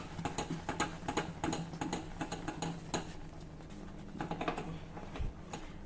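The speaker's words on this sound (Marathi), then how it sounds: "खोरण्याच्या साहाय्याने आता ही उकड आपण छान नीट मिक्स करू" Cooked rice-flour dough (ukad) mixed with a flat spatula in a pan over a low flame, giving a series of close, dull scraping and tapping strokes in an irregular rhythm, with a low steady hum underneath.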